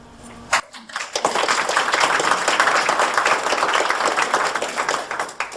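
An audience at an evening lecture on Pennsylvania German gravestones bursts into applause for the speaker, starting after a brief sound and swelling into loud, sustained clapping that fills the room.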